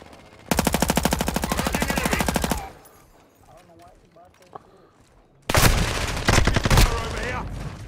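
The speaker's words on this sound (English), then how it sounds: "I have to use a machine gun." Automatic machine gun fire in Call of Duty: Modern Warfare II deathmatch, two long loud rapid bursts separated by a few seconds of quieter game ambience.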